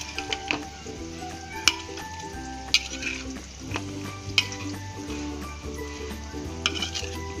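Gram flour being stirred into jackfruit sabzi in a pan, a steady sizzle of frying running underneath while a spoon scrapes and clinks against the pan a few times, close and fairly quiet, with no voices.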